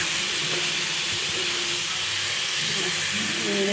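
Washed fish goes into hot spiced oil in a home kitchen, raising a loud, steady, dense sizzle that hisses evenly throughout with no talking.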